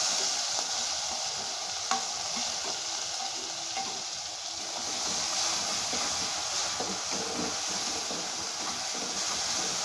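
Ground spice paste sizzles in a pan with softened tomato while cooking a bhola fish curry, a steady, soft frying hiss with faint crackles and occasional light stirring scrapes close by.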